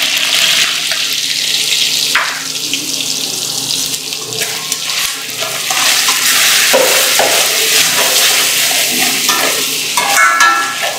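Spiced potato filling with chilli powder and salt frying in a pan until golden yellow, a steady loud broadband hiss and crackle running throughout with occasional stirring clicks, no voices.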